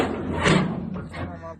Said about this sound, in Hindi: ये दरवाजा फेर के निकलते हैं जी